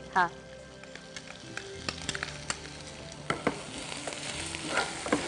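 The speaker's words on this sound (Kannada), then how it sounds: "ಈರುಳ್ಳಿ ಹಾಕ್ಬಿಟ್ಟು ಚೆನ್ನಾಗಿ ಬ್ರೌನ್ ಕುಡಿ." Onions browning in a pan sizzle steadily up close, broken by frequent spatula knocks and scrapes against the pan, with some faint voice in the background.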